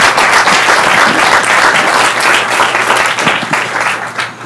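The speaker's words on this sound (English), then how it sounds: "I think it's reasonable to give a little applause for that" An audience claps at an outdoor groundbreaking ceremony for a new park, with loud, dense, steady applause that tapers slightly toward the end.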